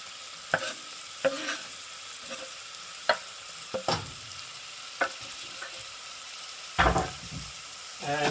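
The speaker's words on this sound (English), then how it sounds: "you can hear them frying away there" Diced onions fry in a pan with a soft, steady sizzle, broken by several sharp clatters and scrapes of stirring.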